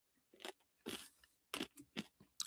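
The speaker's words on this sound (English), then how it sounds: "Gotta crunch my little cough drop." Close, crisp crunching as a hard cough drop is bitten down several times in short bursts, with quiet pauses between bites.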